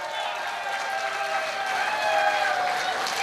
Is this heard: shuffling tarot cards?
no